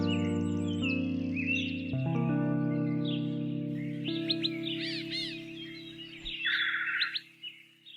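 Songbirds chirp and trill in short high bursts over a steady hum of lower tones, with the calls growing busier and louder toward the end, set among Brazilian backyard trees.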